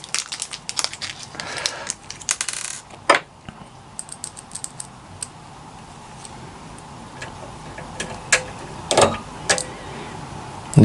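A DM screw being driven into a Hero Collector Eaglemoss Ghostbusters Ecto 1 model makes sparse, sharp little clicks and ticks up close, with a scratchy burst early on and quiet gaps between, and no voices.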